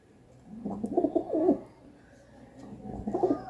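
Domestic pigeons cooing in a home loft, two soft, low burbling bursts close by separated by a short pause, with no voices over them.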